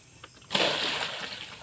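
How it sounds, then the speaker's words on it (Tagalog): Water bailed out of a hillside well lands with a sudden splash and then a sloshing wash that runs on briefly, close by and fairly quiet. "maglimas kita sa tumbalon mga kananay"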